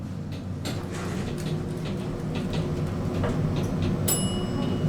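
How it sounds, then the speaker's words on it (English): Otis Lexan elevator at 24 Greenway, a quiet hum and faint ticking as the car settles, then a clear bell chime ringing out near the end as the door opens. "What do you think of that bell?"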